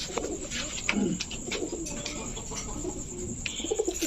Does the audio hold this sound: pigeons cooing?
yes